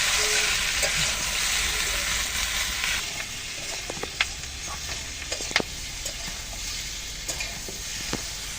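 Green chillies and vegetables fry together in a pan for mung dal vegetable khichuri. A loud steady sizzle softens after a few seconds, punctuated by scattered clicks of stirring.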